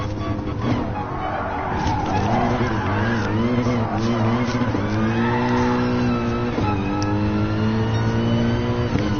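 A Mercedes AMG GT race car in Gran Turismo Sport, on worn-out tires with broken rear-left suspension, revs hard and steadily, its engine note rising and dropping through gear shifts, with a voice faintly underneath.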